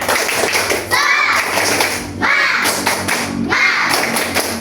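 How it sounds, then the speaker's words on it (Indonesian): Children in a primary classroom clap hands in three loud, rhythmic bursts, close by, with their voices chanting along between the claps. "Tepuk tangan dulu untuk semua."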